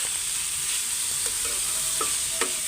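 Vegetables fry in hot oil with a steady, dense sizzle, and a few soft clinks from stirring break through it. No one speaks.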